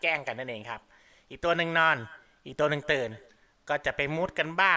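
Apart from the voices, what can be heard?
No everyday noises stand out.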